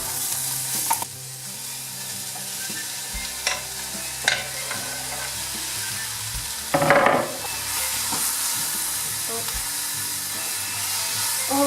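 Onion, garlic, courgette and tomatoes frying in a large pan, a steady close hissing sizzle with occasional clinks and scrapes of a utensil.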